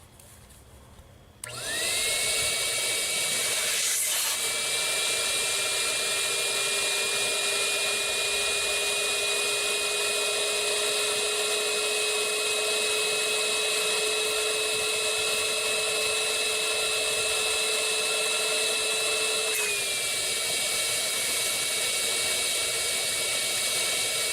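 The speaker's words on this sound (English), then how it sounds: "We're using a 2-stage blower, so you can hear the change in the pitch as we put more pressure in the front and the back tubes." A two-stage blower pressurises front and back tubes in a factory, a loud steady whine that starts abruptly, rises in pitch as pressure builds, holds, then drops near the end.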